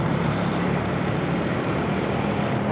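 A motorcycle with a loud, crackling exhaust roars steadily while being ridden, a dense continuous rumble blended with wind rush and no pauses.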